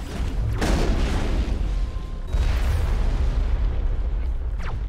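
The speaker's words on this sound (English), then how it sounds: "Oh, I love a good rocket blast in the face in the morning." A rocket detonates in Mass Effect with a loud, deep boom that rolls on as a rumbling roar, then a second heavy blast follows about midway, with no voices.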